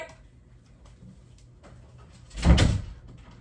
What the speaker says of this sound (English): Lock the door on her.